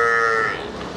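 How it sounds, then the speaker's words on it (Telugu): A Murrah cross buffalo of the Bunny Murrah breed at a Hyderabad dairy farm gives one loud, close, drawn-out moo that fades toward the end. "మన బన్నీ ముర్రాలో క్రాస్ ఉంది ఇది."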